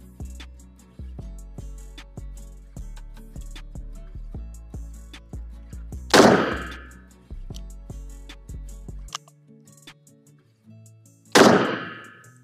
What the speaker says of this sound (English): Okay, just shooting all around the target now.